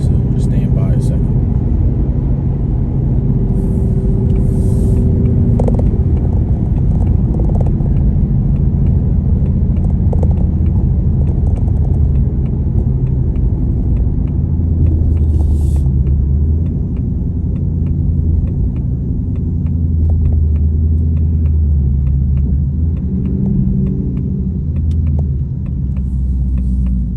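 2024 Mustang GT V8 with a Corsa Xtreme cat-back exhaust and Kooks catless long-tube headers, heard as a deep, steady, loud rumble from inside the moving car, with people talking over it.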